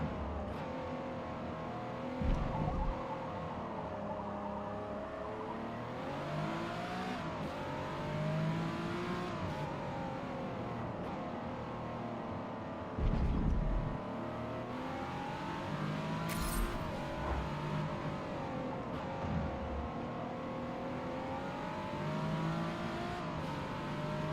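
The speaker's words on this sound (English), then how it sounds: "It sounds like an engine." A race car engine in GT7 or Forza Motorsport revs and climbs through gears, its harmonic tone sweeping up and down continuously, with a few brief thumps and a short tire squeal at moderate loudness.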